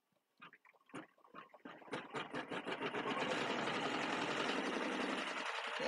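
Embroidery machine stitching a cutwork coaster: a few separate stitch taps at first, then speeding up into a dense, steady mechanical chatter nearby.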